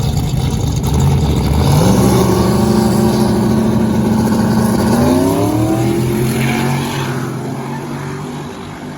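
A big block twin turbo Fox body race car at a no-prep drag strip roars loudly, its engine note climbing as it accelerates, then slowly fading toward the end.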